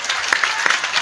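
An audience at a kirtan gathering breaks into brisk applause, dense clapping heard fairly close for a short burst.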